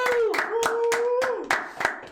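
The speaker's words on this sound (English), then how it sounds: "Sad claps." A handful of slow, sparse hand claps, about seven evenly spaced sharp snaps, sounding thin and half-hearted, with a voice talking underneath.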